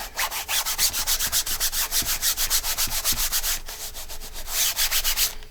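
Sandpaper or a sanding block rubbing down a paper file-folder journal page in fast, steady back-and-forth strokes, close and fairly loud, with a brief pause midway and no talking.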